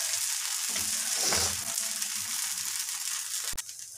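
Food frying in a pan sizzles in a steady, close broadband hiss, with a soft scrape or stir in the middle and a sharp clack near the end; no one speaks.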